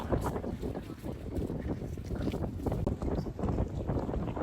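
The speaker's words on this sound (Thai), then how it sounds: "ว้าวลมแรงมากเลยลูก" Strong wind gusts at the Bang Pu seaside resort batter the microphone with a loud, steady broadband roar and rumble that fills the whole clip, with no voices.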